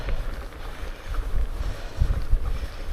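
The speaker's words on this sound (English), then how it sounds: "We're riding into a strong wind here unfortunately, so it's quite tough" Strong headwind buffeting the microphone while mountain biking on a Scottish trail, a continuous low, rumbling roar with uneven gusts swelling and easing, loud and close throughout.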